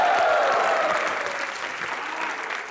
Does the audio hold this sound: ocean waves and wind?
no